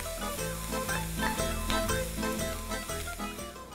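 Capsicum sizzles in a hot pan for a pasta sauce, with steady frying crackle and occasional stirring, carried alongside a continuous tonal backing throughout.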